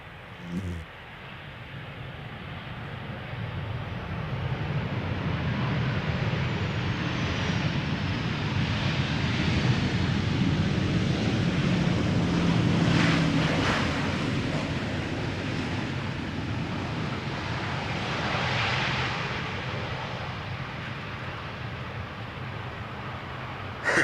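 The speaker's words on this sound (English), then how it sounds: "737-800, the PHHXO. It is 5 years old, first flight January 2019." A Transavia Boeing 737-800, registration PH-HXO, arriving from Ljubljana at Schiphol's Polderbaan: a broad, steady jet engine roar that swells gradually toward the middle and slowly fades, heard from a distance with no talk.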